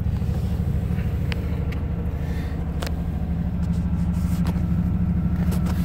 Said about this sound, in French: On va arrêter le moteur.